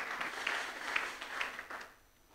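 A church congregation applauding, a moderate wash of clapping that builds and then fades over about two seconds, heard at a slight distance with no talk.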